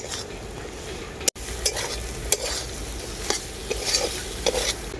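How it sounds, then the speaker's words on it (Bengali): Chickpeas being stirred and fried with spice masala in a pan, with a steady sizzle and repeated scraping strokes of a spoon, plus one sharp clack and a brief cut near the start; no voices. "কাবলি ছলাগুলো দেওয়ার পরে আবারও আমি খুব ভালো করে কষাতে থাকবো"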